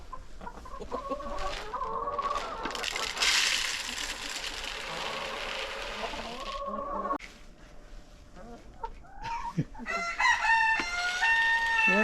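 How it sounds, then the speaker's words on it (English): Chickens on a farm cluck and squawk around feeding time, with a rooster crowing and rising, drawn-out calls near the end, fairly close amid some rustling and bursts of noise, and a person speaks briefly. "You gotta feed the chickens."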